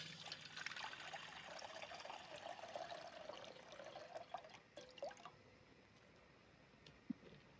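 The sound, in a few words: water pouring into a pot to boil spinach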